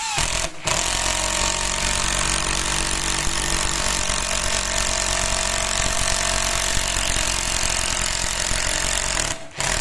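A Ronix impact driver hammers a 10 cm screw in one long, loud, close burst of rapid rattling impacts that runs almost without a break, with a short pause near the start and a stop at the end.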